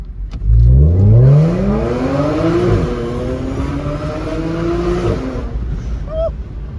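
A car engine revs up briefly, then settles into a low, steady drone around 1000 RPM near idle with a rising and falling pitch, heard close.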